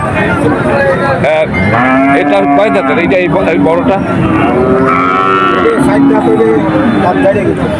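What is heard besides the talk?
cows mooing at a cattle market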